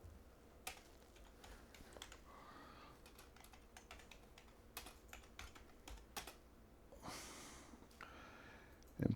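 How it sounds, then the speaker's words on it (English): Fingers tapping a computer keyboard to enter a file name, a quiet, fairly steady run of light clicks with short pauses and a few sharper, louder keystrokes toward the end. "I'm going to type in my name here in the file name."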